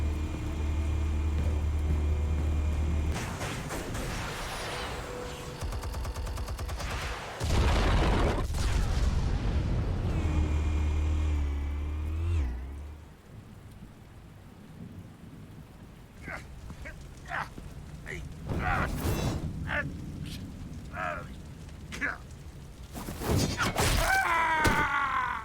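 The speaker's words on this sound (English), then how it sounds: "Explosives armed. Fire when ready." Explosives going off in Batman: The Telltale Series, heavy booming blasts and rumbling low-end roars rolling over a busy game soundtrack, with scattered impacts and mechanical clatter later on.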